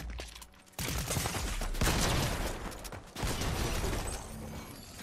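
Gunfire crackles in a video game, with rapid bursts of shots and mechanical reload clatter in dense, loud volleys that stop briefly and resume across the stretch.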